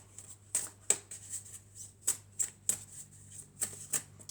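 Tarot cards are shuffled and drawn at close range, giving a series of sharp papery snaps and flicks in irregular pairs over a quiet room hum, with no talk.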